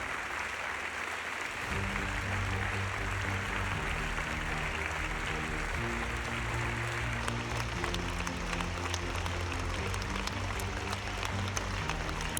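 Standing ovation at the Venice Film Festival for a Gaza docu-drama, with loud, sustained applause from a large crowd that swells in after a brief quiet start and carries on steadily throughout.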